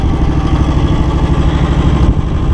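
Close, loud idle of a John Deere X724 four-wheel-steer lawn tractor fitted with a 54-inch snow blower: an even throbbing low rumble with mechanical clatter, unbroken throughout.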